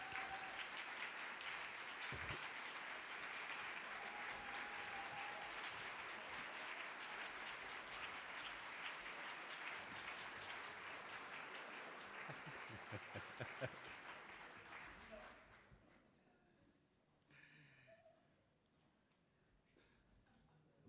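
An audience at a keynote event gives a sustained round of applause, with dense clapping holding steady for about fifteen seconds before thinning out to scattered claps and quiet.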